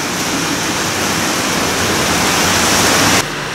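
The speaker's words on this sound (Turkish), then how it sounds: "Yağmur yağışı." Heavy rain pours down outside open doors in a steady, dense rushing hiss, loud and uniform, stopping abruptly near the end with no voices.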